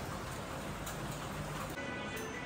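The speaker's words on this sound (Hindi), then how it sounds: "बारिश काफ़ी तेज़ हो रही है।" Heavy rain falling outdoors during an evening tikka party, a dense, steady hiss of pouring rain that fills the whole scene evenly.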